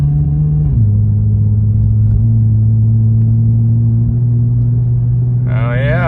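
A lifted Toyota Camry drives off-road with a loud, steady engine drone close by. The pitch dips once early on, and a brief whine rises near the end.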